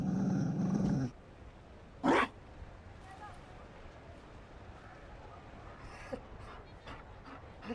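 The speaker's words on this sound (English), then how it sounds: "You found a dog." A Mabari war dog in the video game Dragon Age: Inquisition growls and whimpers, quiet and low against a game backdrop, with a brief louder burst partway through and no one talking.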